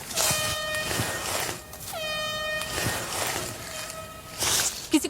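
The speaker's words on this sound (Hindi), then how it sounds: "हॉर्न बज रहा है, शायद हमारी टीम ने ढूंढ ली।" Repeated blasts of an air horn during an outdoor group survival challenge, a loud blaring tone sounding several times with brief gaps, over a noisy outdoor background.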